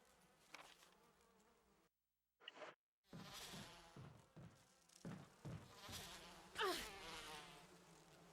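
Bees buzz in the Resident Evil Remake video game, a faint insect drone with swelling whines that rises and falls, briefly cut out, then resuming with scattered clicks and thumps from the game.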